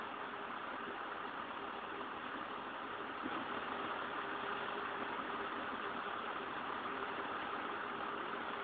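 A gas flare burns out of sight at an industrial site, giving a steady, loud broadband roar with a low rumble that holds unchanged throughout, with no voices.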